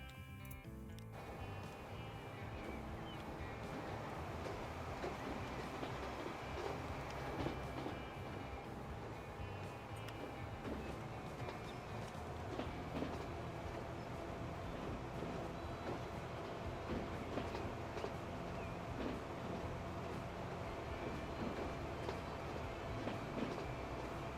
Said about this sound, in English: Let's ride along with one of our TGVs.